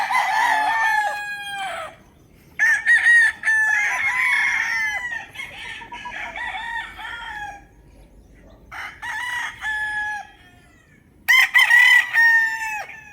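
Gamefowl roosters crow repeatedly, loud and close, several long cock-a-doodle-doo calls with short pauses between them, plus some clucking.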